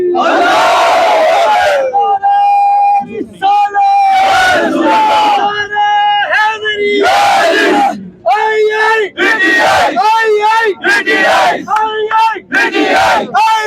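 A large crowd of PTI party workers outside Bani Gala chants political slogans in loud call-and-response bursts, many voices shouting in rhythmic unison with short pauses between lines.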